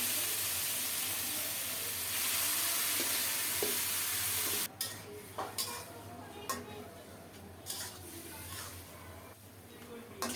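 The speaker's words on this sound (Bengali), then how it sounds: "সরিষার তেল কালো জিরা ফোড়নে দিলাম এখন শাকটা দিয়ে দিচ্ছি" Greens frying in mustard oil tempered with black cumin, first as a loud, continuous hissing sizzle close up. The sizzle then drops abruptly to a quieter crackle broken by light clinks of stirring against the pan.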